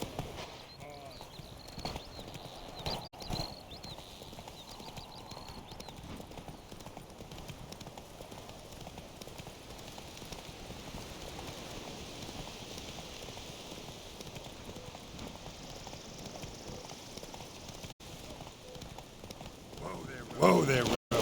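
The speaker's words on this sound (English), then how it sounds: "Whoa there, Roach." Horse hooves gallop in The Witcher 3 video game, a continuous quick clip-clop rhythm running throughout at moderate level with a few interjections from a rider.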